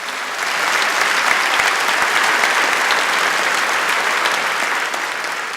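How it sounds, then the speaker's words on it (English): An audience at a humour talk claps in sustained, dense applause that swells in after a brief quiet start and holds evenly before easing slightly at the end. "Give Nicole a round of applause."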